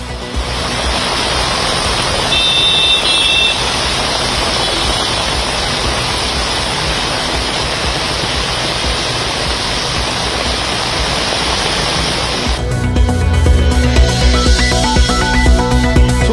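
Heavy rain pours with strong wind at night in Chennai, a loud, dense, steady hiss of rainfall that continues throughout, with a different sound entering near the end.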